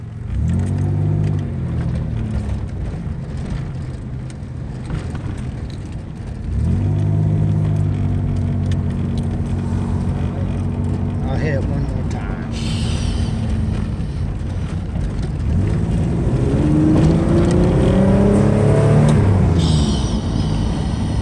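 A 1988 Chevrolet Camaro engine runs steadily and loud throughout, with low rumbling revs rising and falling in a few swells, alone without talk.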